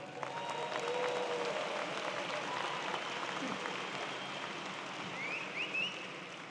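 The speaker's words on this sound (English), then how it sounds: "So can you give me a round of applause?" A large commencement audience of mechanical engineering master's graduates and guests applauds in a steady, sustained wash of clapping that stays fairly distant and even throughout, with a few faint whoops and cheers rising near the end.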